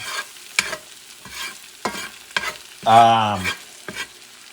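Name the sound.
stirring smoked paprika frying in pan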